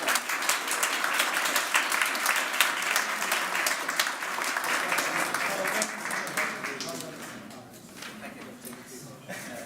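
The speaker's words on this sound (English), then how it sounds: "can we have a round of applause" Applause for a university team at an engineering design challenge final, a dense crowd clapping steadily and loudly before gradually thinning out toward the end.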